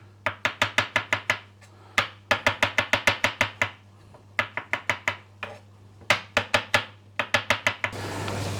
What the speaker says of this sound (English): Now I put mushrooms in lasagna and we slice them up.